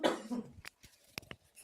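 A single person coughing, a short rough burst up close followed by a couple of faint throat sounds and small clicks in a quiet room.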